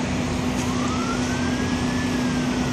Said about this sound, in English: There's more fire engines coming.